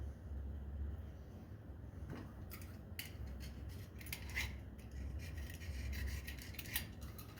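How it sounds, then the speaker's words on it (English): A hand scraper works old sealer off the motor housing of a Ryobi 480e riding mower deck, giving faint, quiet scratchy strokes in short irregular bursts over a low background hum. "You want to scrape off any old sealer."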